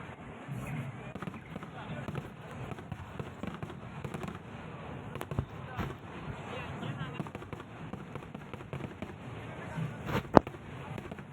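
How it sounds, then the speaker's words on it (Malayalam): Vishu festival fireworks at Cheramkulangara Vishuvela, a continuous crackle of small bursts that goes on for a long stretch with a murmuring crowd, then one sharp, loud bang near the end. "കുറേ നേരം അങ്ങനെ വെടിക്കെട്ട് നോക്കി നിന്നു."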